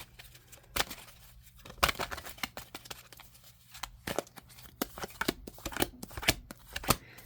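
Tarot cards are shuffled and handled close up, with sharp riffling bursts and soft slaps and flicks coming in irregular clusters, quiet overall and with no talking.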